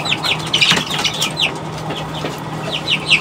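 Arab Katu Brahma chickens in a coop give repeated short, bright clucks and chirps, several calls spread across the moment, close by over a low steady hum.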